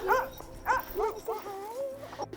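A sled dog at a kennel yips and whines in a quick series of rising and falling vocal barks, close and fairly loud, ending in a long drawn-out whimper.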